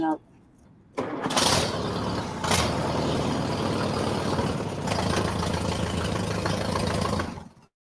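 A 1952 Allis-Chalmers WD tractor engine cranks and catches after sitting idle for two months, then runs at a loud, steady, rumbling idle for several seconds before cutting off abruptly.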